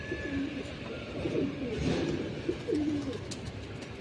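Low, soft pigeon coos repeat a few times against a steady outdoor background hiss, moderately close but not loud.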